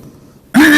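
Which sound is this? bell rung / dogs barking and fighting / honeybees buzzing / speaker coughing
speaker coughing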